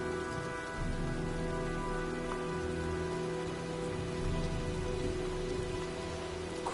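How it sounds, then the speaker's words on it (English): Steady heavy rain pours in a stormy scene from the video game Heavy Rain, a dense continuous hiss with low rumbling underneath and a steady mechanical hum, no voices. "looks like a storm's coming"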